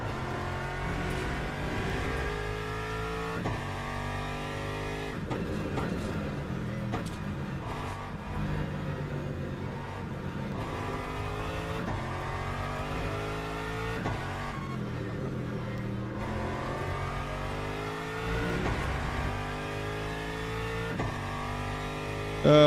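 GT3 race cars such as an Aston Martin and a Mustang in the Le Mans Ultimate game, engines repeatedly climbing through gears with sharp upshifts and downshift blips, a continuous close onboard howl.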